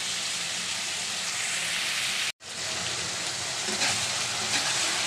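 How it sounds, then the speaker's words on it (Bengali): Bitter gourd fries slowly in oil over medium heat, producing a soft, continuous hiss and sizzle that cuts out for a moment midway, then resumes evenly. "এবার এভাবে আস্তে আস্তে ভাজা হবে"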